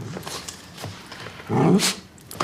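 A dog gives a low growl and then a short louder bark, close and clear, with quiet room sound in between.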